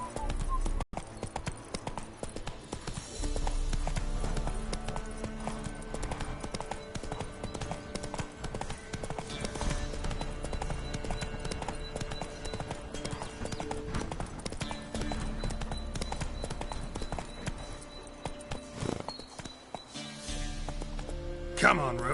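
Geralt rides his horse Roach in The Witcher video game, and steady, rhythmic hoof clip-clops run throughout amid game ambience and music, with brief speech from a character.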